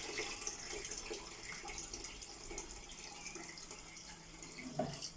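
Water poured into a pot of rice for coconut rice in a home kitchen, a steady faint pouring and trickling stream running throughout with a brief splash near the end.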